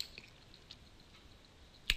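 Computer mouse clicks: a few faint, sparse taps, then one sharp, close click at the end, in a quiet room with no talking.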